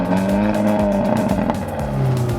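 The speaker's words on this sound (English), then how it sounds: "this sweet-sounding engine that I'll let you hear again" Engine of a 2018 Hyundai i30 N hot hatch, loud and close, revving with rising and falling harmonic tones over a steady rumble, with a few crackling pops from the exhaust, no voices.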